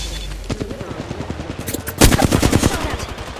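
Rapid bursts of video game gunfire during a battle royale match, a dense run of sharp shots that builds to a louder, heavier volley midway, with a faint voice underneath.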